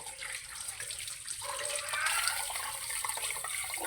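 Harvested tomatoes rinsed under a running tap, a steady splashing stream of water that grows slightly louder partway through, with no talking.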